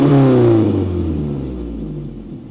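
Peugeot 405 engine settling toward idle after a carburetor adjustment, a loud close rumble that starts with a high rev and then drops steadily lower.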